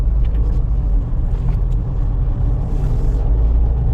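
Car climbing a steep hairpin slope on a forest hill road in city mode, a loud steady low engine rumble and road noise filling the whole stretch with no talk.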